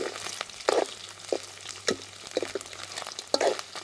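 Boiled meat fries and sizzles in a pan, with sharp, repeated clacks and scrapes of stirring close by over a low, steady crackle.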